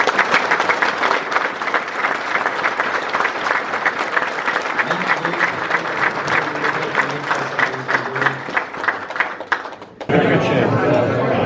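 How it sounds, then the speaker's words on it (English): Audience applause fills a crowded venue at the PRI 2019 show, a dense, steady wash of clapping lasting about ten seconds before cutting off abruptly, with voices murmuring underneath. "Let's give these guys a round of applause"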